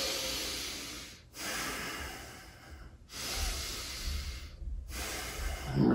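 Deep breathing during a standing yoga arabesque pose: long, close, hissing breaths, a few inhale-exhale cycles broken by short pauses, with no talk.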